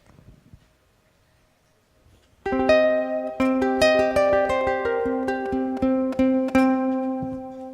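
Ukulele played clean without the octave pedal: near-silence for about two seconds, then a clear, bright run of plucked notes and strums ringing out alone at moderate loudness.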